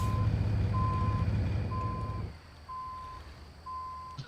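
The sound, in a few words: truck engine in American Truck Simulator video game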